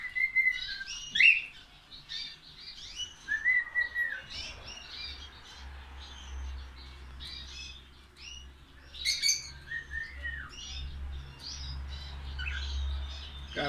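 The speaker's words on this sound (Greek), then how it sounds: "Έχω καινούρια παραλαβή σε μεγαλόσωμα, γιγαντόσωμα κανάρια." Large, giant-bodied canaries chirp and sing in bursts of bright trills and short calls, several birds close by with quiet pauses between phrases and a low hum underneath.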